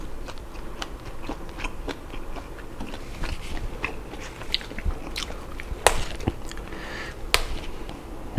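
A grilled pork belly wrap with peanut dipping sauce is bitten and chewed close up, making steady moist crunching and chomping sounds throughout.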